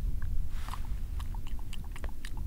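Close, crisp bites and crunching on a piece of rock salt, the white coarse grains picked up in a US national park, with several sharp crackles over about two seconds.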